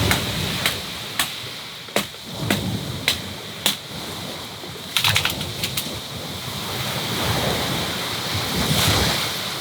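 Waves of an incoming tide wash in steadily on an island shore in monsoon season with a broad, rushing roar, wind buffeting the microphone, and a series of sharp clicks or taps punctuating the first half.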